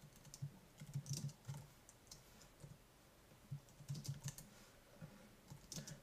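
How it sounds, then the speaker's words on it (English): Quiet typing on a computer keyboard, bursts of soft key clicks in an irregular rhythm with short pauses between them. "So I'm going to be typing"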